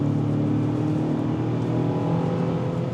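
A 2026 Kia Sportage X-Pro Prestige AWD accelerates in sport mode, its engine a loud, steady droning hum heard from inside the cabin, without talk.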